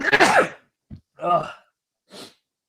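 A loud, close sneeze bursts out, followed by a short gasp and two smaller sneezy exhalations.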